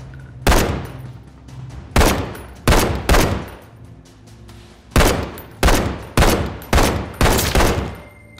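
Gunfire in The Walking Dead: Saints & Sinners, a VR zombie game: loud, close single shots and quick bursts fired in irregular clusters, each crack followed by a short decaying tail, with brief gaps between volleys and no talking.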